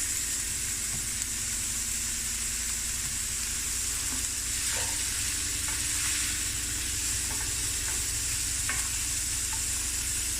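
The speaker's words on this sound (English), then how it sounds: "Fry this until a golden color" Frying on medium heat in a pan for a Cape Malay pumpkin bredie, with a continuous bright sizzle and hiss that stays constant and close, broken by a few faint utensil taps and no talking.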